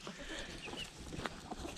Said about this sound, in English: this is a chicken run. So we have 2 baby chicks.